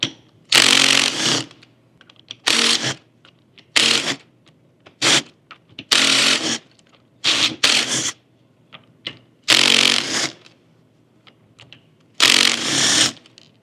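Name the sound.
removing ring gear bolts from Dana 44 differential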